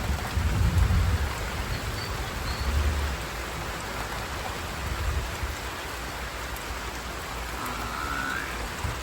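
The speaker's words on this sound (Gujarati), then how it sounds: "વરસાદે શરૂ થઈ ગયો" Steady, heavy rain pours down continuously, a dense hiss with occasional low rumbles, loud and close with no voices.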